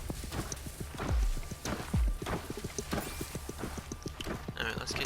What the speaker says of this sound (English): Horse is right there.